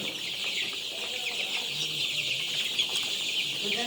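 Sonali chickens cluck steadily in a dense flock, a continuous close chorus of soft clucks and calls with no talking.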